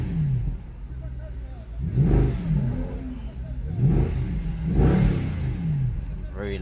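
A 2014 Mercedes-Benz C63 AMG 507 Edition V8 in Sport Plus is revved while stationary, heard from inside the cabin. Three or four sharp throttle blips rise and fall over a low idle rumble.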